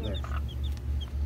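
A hen clucks while feeding her baby chicks roaches, with short soft clucks and faint high chick peeps close by over a low hum.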